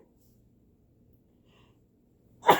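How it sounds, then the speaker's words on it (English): A single sharp sneeze bursts out loud and close after a stretch of near silence. "hold on, I'm going to sneeze"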